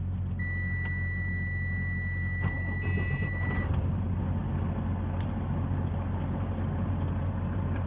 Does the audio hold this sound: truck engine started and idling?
yes